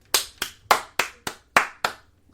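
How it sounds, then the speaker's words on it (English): Seven sharp hand claps, close and loud, in a slightly uneven rhythm with brief gaps between them, then silence. "We need the applause."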